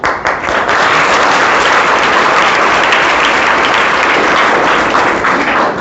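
Students and their speaker at an intercollege in Jaunpur clap together loudly and continuously. The close, dense roar of hands holds at full strength from start to end.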